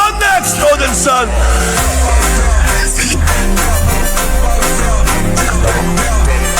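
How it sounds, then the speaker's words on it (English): Dense, loud film soundtrack from Thor: Love and Thunder, with heavy rumbling bass, rising tones and sharp cracking hits for lightning, continuous and layered throughout the short scene. "That's the sound of lightning."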